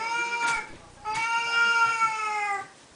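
A Siamese cat meows twice at feeding time, long drawn-out cries close to the microphone with a short pause between them.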